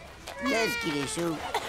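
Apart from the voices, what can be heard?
cartoon cat meowing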